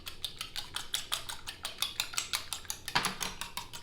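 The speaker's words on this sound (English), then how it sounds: "So you're going to whisk this all together" A whisk beats egg and milk together for an egg wash in a bowl, producing a quick, regular clatter of light metallic strokes, close and fairly quiet.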